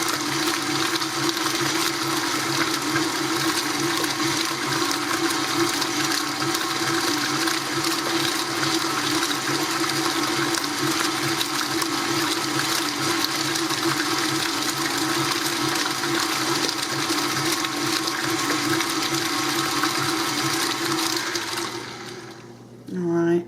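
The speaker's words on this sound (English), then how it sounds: "You just let your whisk do the work for you." A whisk whips cream into butter with a continuous, loud, whirring mechanical drone that runs steadily for over twenty seconds and then cuts off abruptly.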